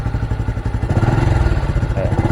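A Honda Blade 125 Fi motorcycle engine, fuel-injected, runs close and loud, its throttle blipped so the pulsing beat quickens and swells into a steady, throbbing rev.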